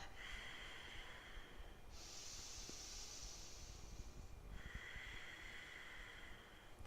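Slow, steady ujjayi breathing with a raspy, hissing sound from the back of the throat, one long breath following another, close and quiet.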